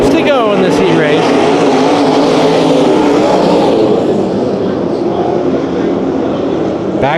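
Sprint cars roar around the dirt oval at Perris Auto Speedway during a heat race, a loud continuous pack of engines with a race announcer calling the action over the top.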